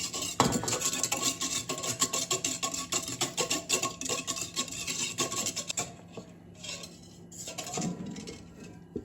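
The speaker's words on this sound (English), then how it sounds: "we're going to whisk that together with a whisk." A whisk beating sugar into a milk and yeast mixture in a bowl for doughnut dough: rapid, rhythmic scraping and clinking strokes, fairly close, easing off in the last few seconds.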